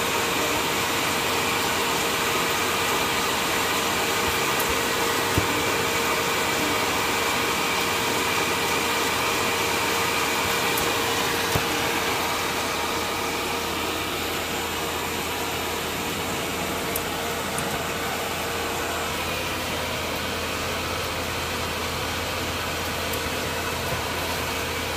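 A reconditioned six-colour Indigo Omnius Webstream digital printing press runs continuously while printing on metallized material, giving a steady, even mechanical drone and hum with no change in level and no voices.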